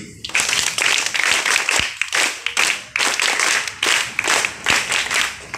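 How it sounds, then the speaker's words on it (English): Students and staff clapping at an evening school assembly, a loud, close burst of applause with irregular surges and brief dips, individual hand claps audible within the crowd. "once again claps for him please"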